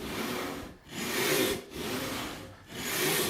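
Long strokes of a hand frame saw resawing a wood board, a steady rasping push-pull rhythm with brief pauses between strokes, close and fairly loud with no talking.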